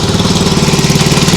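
Small engine of a Nibbi G619 walk-behind tractor runs steadily after carburettor and clutch work, a close, loud, even chugging rumble with a rapid regular beat throughout.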